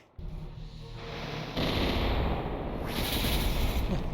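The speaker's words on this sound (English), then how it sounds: "Cannon fire." Cannon fire rings out in the Symphony of War strategy game, a sudden loud blast that grows into a sustained, rumbling roar and holds to the end with no talk over it.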